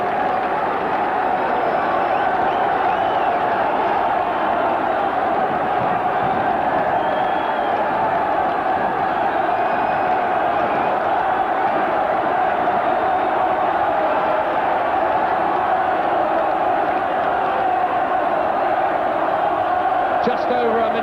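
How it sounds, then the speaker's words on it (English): A large rugby crowd of Leicester supporters cheers and applauds steadily through a 1979 match against Moseley, a continuous roar with a commentator talking over it. "The crowd going wild still"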